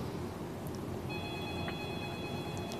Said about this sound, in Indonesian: Ada telepon yang sudah masuk.